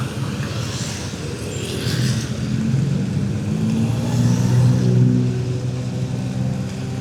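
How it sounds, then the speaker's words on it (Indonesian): Cars and motorbikes crawling in a long jam on the Gumitir pass road in western Banyuwangi, under repair with one-way alternating traffic, engines idling and rumbling steadily close by with occasional revving, no talk. "Ini lagi ada perbaikan, jadi macet panjang banget"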